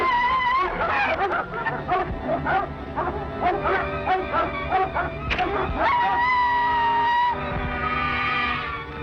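Several dogs bark, yip and howl in an excited, overlapping chorus, loud and close, with a sustained howl rising near the end.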